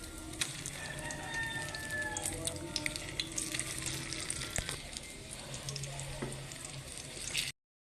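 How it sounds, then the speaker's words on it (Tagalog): Sweet potato omelette (tortang kamote) frying in a pan, a steady close sizzle and crackle with occasional sharper pops and faint clinks, running continuously before cutting off abruptly. "Ito guys, ready to fry na."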